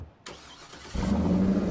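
A truck engine in the State of Decay game turns over and settles into a steady mid-pitched rumble after a brief start, near and moderately loud, with no voices.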